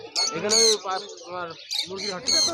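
Chickens squawk loudly at close range in several sharp, high bursts, with crowd noise around them at a large bird market in Krishnanagar, Nadia.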